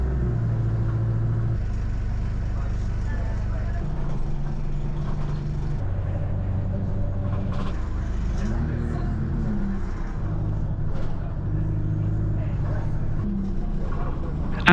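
Inside a London Superloop bus riding through the outer suburbs toward Croydon, a low engine drone shifts pitch as the bus speeds up and slows, with steady rattling and rumbling throughout and occasional faint, muffled voices.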